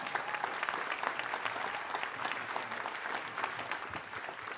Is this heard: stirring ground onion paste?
no